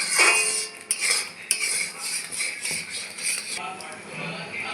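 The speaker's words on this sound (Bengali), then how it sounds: "আরও একটু আমি এইভাবে নাড়তে থাকবো আরও একটু শুকিয়ে নেব" A thickening mixture of milk and rice is stirred in a pan. A metal spoon scrapes and clinks repeatedly against the pan, close and fairly loud, with a soft sizzling hiss underneath.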